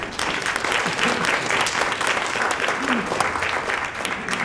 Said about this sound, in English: Maybe we give them a clap before we move on.